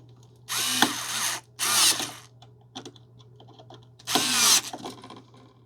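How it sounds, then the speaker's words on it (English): Screwdriver turning the terminal screws on a Leviton single-pole light switch, three separate bursts of close, scratchy ratcheting and rasping with quiet pauses between them and a steady low hum underneath. "you're simply going to tighten those screws down now"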